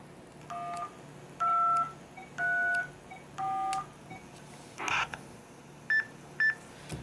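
A run of DTMF keypad tones keys a control code into a radio repeater controller, about seven clean beeps of differing pitch spaced at short uneven intervals, plus a brief noisy burst near the end, with no speech.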